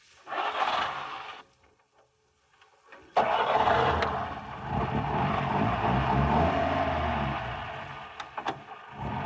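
A taxi engine cranks and catches, then runs at a steady mid-pitched idle for several seconds, loud and close, with an earlier brief mechanical burst and silence before the start; no voices.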